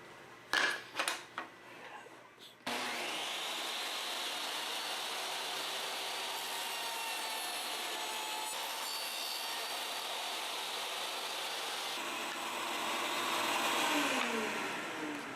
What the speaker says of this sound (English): I'm ready to now cut the dado slot right here.